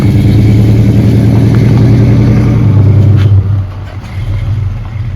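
A Dodge Coronet pulling away with a loud, close rumbling engine note that holds steady, then fades and drops off as the car moves away, with no talking.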